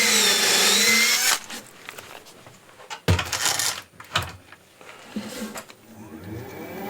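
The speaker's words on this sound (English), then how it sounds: "So I'm just going to drill a hole for a screw chuck." A power drill whirs loudly as it bores a screw chuck hole into a wood bowl blank at a lathe, then gives way to short bursts of drilling and scattered knocks and clatter.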